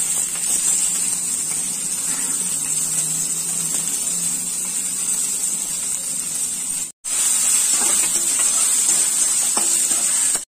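Vegetables sautéing in a hot pan for hotel-style veg biryani, a steady loud sizzle and hiss running almost continuously, with a brief break near the end before the frying resumes.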